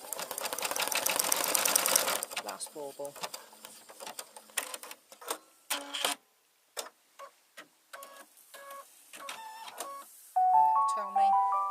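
An embroidery sewing machine stitches out a bauble design in a hoop, a dense burst of rapid clicking that breaks into scattered ticks and short motor whirs as it finishes, up close, with a person speaking briefly.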